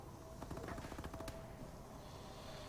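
In Call of Duty: Advanced Warfare, the EM1 laser heavy weapon fires a rapid, continuous crackling burst for about a second, then a steady tonal hum lingers at moderate loudness.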